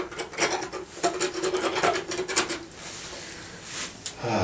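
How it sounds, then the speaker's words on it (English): An S-file rasps a horse's second premolar teeth in a series of close, gritty back-and-forth strokes with an uneven rhythm, then eases into lighter scraping. "This little tool is called an S-file, and it allows for just the last filing up of this bit seat"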